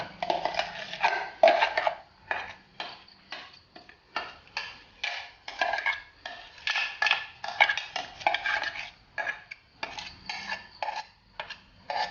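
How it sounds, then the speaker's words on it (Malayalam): A spoon stirs curd into a Kerala-style ash gourd pulissery in a pot. Repeated rhythmic scraping and clinking strokes sound close and fairly loud, with no talking. "അത് ഇതിലേക്ക് ചേർത്ത് നന്നായി ഇളക്കി മിക്സ് ചെയ്തതിന് ശേഷം"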